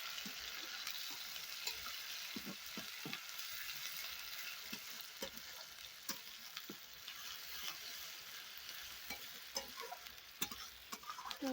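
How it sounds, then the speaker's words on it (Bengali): Onions fry in a hot kadai over caramelising sugar while meat is being cooked, giving a steady close sizzle with scattered ticks and scrapes of stirring, with no one speaking. "তো তার জন্য আমি পেঁয়াজগুলো দিয়ে দিলাম, নাহলে চিনিটা পুড়ে গিয়ে কালো হয়ে যেত।"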